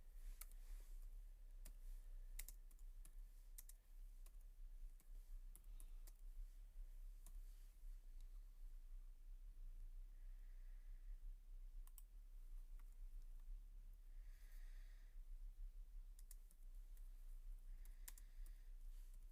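Fingers tap steadily on a computer keyboard while entering a product name in an online seller listing, with quick, light clicks in irregular runs over a low hum and no speech.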